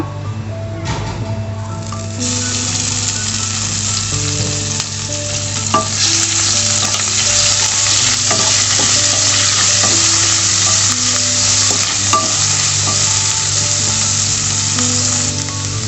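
Onion paste hits the hot oil of a pan that was just used for frying fish, letting out a loud, sustained sizzle while a utensil scrapes and clinks as it is stirred throughout.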